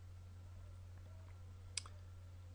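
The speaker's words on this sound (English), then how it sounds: "So I will now right click on there and open the containing folder" A single sharp computer mouse click, quiet and close, over a steady low electrical hum.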